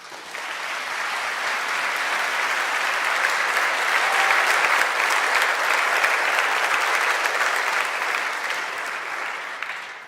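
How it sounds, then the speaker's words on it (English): A conference audience at a developer event in Berlin breaks into sustained applause, a dense wash of clapping that swells and holds for about ten seconds before tapering off. "Thank you so much to all the speakers on stage. A round of applause, please."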